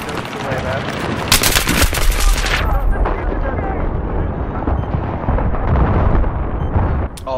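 Rapid gunfire bursts and booming shots crackle loud and close through a Battlefield 3 multiplayer Conquest match, dense and continuous with chaotic battle noise and a voice speaking over it.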